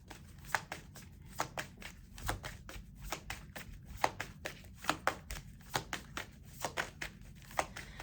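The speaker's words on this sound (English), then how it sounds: "shuffling my cards" A deck of cards shuffled by hand, close up, with a steady run of crisp snapping riffles and taps repeating about twice a second, with no talk.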